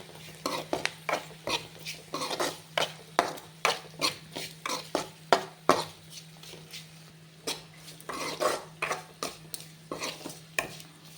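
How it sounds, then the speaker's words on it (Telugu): Turmeric and chili powder being stirred into fenugreek egg bhurji in a pan, a steady run of repeated metal-on-pan scrapes and clinks in a fairly regular rhythm over a low background hum, close and clear with no talking. "పసుపు కారం ఇప్పుడు కలిపేసుకోండి"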